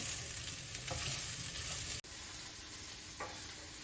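Tender beef stir fry sizzles loudly and steadily in a hot pan, close up, with a brief break in the middle and a faint stir clink, no voices.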